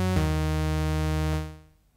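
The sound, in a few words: Ableton Drift synthesizer default patch playing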